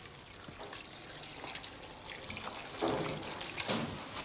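Water runs from a tap into a pot for a Moroccan couscous stew of pounded herbs, garlic, cumin and olive oil, a soft steady splashing that swells louder toward the end, with no talk.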